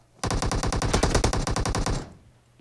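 Automatic gunfire in the video game PUBG Mobile, a rapid burst of about twenty evenly spaced shots lasting nearly two seconds, loud and close, then cutting off abruptly.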